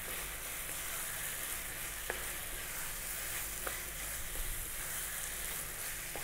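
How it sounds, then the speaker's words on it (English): Cut boneless lamb pieces sizzle steadily in a hot pan for a restaurant-style curry, a constant crackling hiss broken by a few quick clinks of stirring. "Now we're gonna drop in our lamb."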